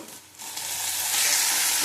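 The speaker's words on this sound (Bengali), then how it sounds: "দেখো উচ্ছে আলু পেঁয়াজ ভাজা হয়ে গেছে। মাছের তেলটা দিয়ে দেবো।" Bitter gourd, potato and onion fry in fish oil in a home kitchen pan, a hiss that starts soft and swells into a loud, dense, steady sizzle up close.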